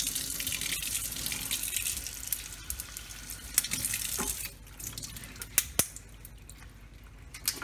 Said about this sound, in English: Let's run some hot water on it.